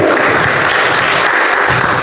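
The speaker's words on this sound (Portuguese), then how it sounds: "Se Jesus merece uma linda salva de palmas, amém?" A crowd applauds loudly and continuously at a church service, a dense wash of clapping filling the whole moment.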